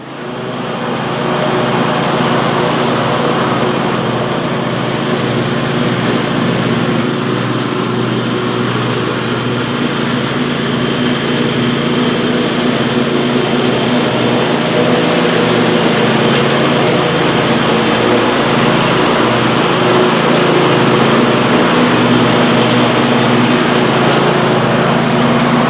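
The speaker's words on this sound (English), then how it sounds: "So it's a nice tractor for mowing the lawn." A lawn tractor's small engine runs steadily and loudly at a constant pitch for the whole stretch, a dense mechanical drone with no pauses or changes in speed.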